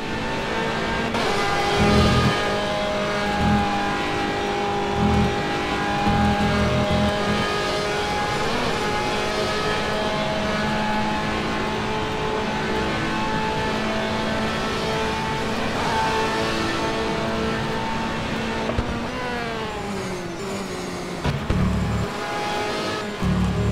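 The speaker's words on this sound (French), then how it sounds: "On embarque avec la Ferrari à l'assaut du Raidion de l'eau rouge." Onboard Ferrari GTE race car engine in a sim racing game, climbing through Eau Rouge at Spa-Francorchamps: a loud, sustained high-revving wail with rapid gear shifts and a brief drop in pitch, heard continuously without talk.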